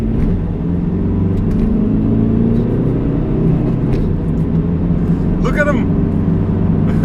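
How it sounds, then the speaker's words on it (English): Diesel 2013 Ford Transit Connect accelerating hard from inside the cabin, a loud continuous low engine drone and road rumble rising steadily, with a brief voice partway through. "Spinning tires!"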